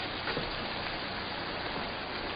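Rain falls steadily in a 1947 film noir scene, a dense, even hiss of patter with no talk over it.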